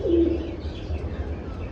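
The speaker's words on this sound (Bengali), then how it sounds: "এটা কিন্তু তুতা কবুতর" A tuta pigeon gives a single short, low coo near the start, fairly close, with steady low background noise after it and no voices.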